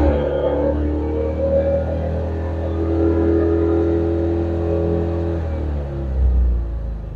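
A car engine idling too high, around 2500 RPM, as a steady, close mid-pitched hum that holds constant and dips only briefly near the end.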